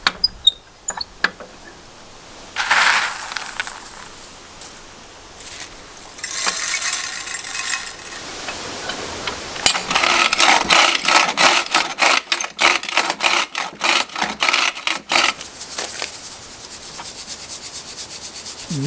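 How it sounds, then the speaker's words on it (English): A jaw crusher set tight grinds gold ore rock down toward powder, giving dense rough grinding and rattling bursts that come and go, with a sustained stretch of crushing noise near the end. "we're going to do one more pass as tight as we can get in the jaw crusher"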